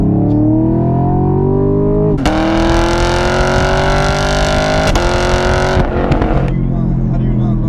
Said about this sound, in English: And then number 3, it's gotta be that exhaust tone